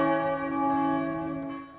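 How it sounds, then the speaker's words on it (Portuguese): Cathedral church bells in Florianópolis ring out for the arrival of a funeral procession, a single sustained, rich metallic toll slowly decaying, fairly distant and alone without voices. "Os sinos anunciaram a chegada do cortejo."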